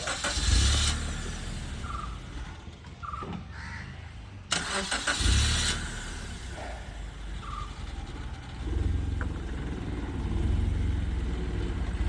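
A car's engine runs at a low, rumbling pitch during a driving lesson, swelling and easing as it moves slowly, with a crow cawing now and then in the background and no voices.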